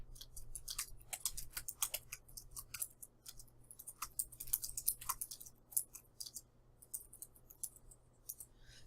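Soft, irregular clicks and taps from a computer keyboard as a short course description is typed, faint and close in a quiet room, with no talking.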